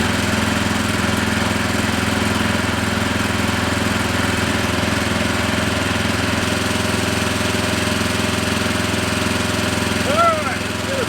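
A farm tractor engine runs at planting time with its throttle opened up: a loud, steady, close mechanical drone with a constant rumble throughout.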